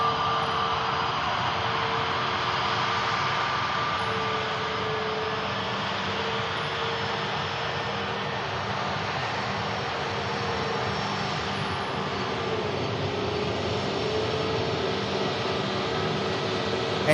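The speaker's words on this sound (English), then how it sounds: "And here's the beautiful 321neo." An Airbus A321neo jet airliner at Manchester Airport gives off a steady, moderately loud engine roar with a faint whine, continuous and even, with no talk.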